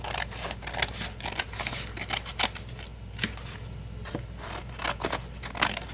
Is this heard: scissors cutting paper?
yes